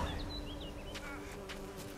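Bees buzz steadily in The Witcher 3 amid game ambience, with short high chirps and a couple of sharp bright accents over the droning hum; no voices.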